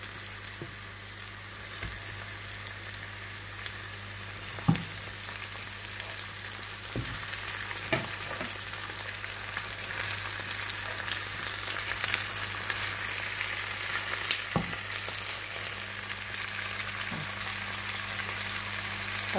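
Pork trotters brown in a frying pan with a continuous close, crackling sizzle that builds slightly over time, broken by a few sharp clinks and taps from utensils, with no talking.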